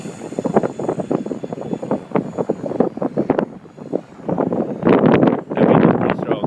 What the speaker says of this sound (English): That wind is pretty strong